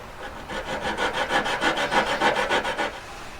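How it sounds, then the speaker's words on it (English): Back-and-forth sawing as a hand saw blade cuts into a marquise-shaped jewelry collet, steady rasping strokes repeating about every quarter second, close and clear with no talking. "just went up and down it with a saw blade"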